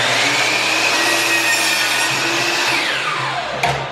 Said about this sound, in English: This stuff's pretty thick, so it's easier to use our miter saw.